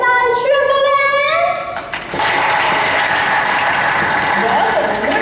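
An audience at a school graduation stage performance breaks into sustained applause and cheering, a dense wash of clapping that follows an amplified voice and continues loudly to the end.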